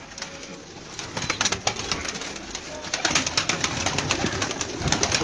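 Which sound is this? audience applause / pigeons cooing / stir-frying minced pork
pigeons cooing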